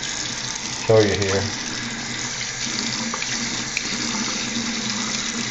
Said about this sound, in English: See how the water is just flowing down